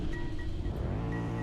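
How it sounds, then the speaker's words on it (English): A Mercedes GT63 in a driving video game accelerating hard, its engine a steady, loud, continuous roar that holds throughout with no speech over it. "Moving on to the next car, I got to go with the GT63, man. This car is so fast."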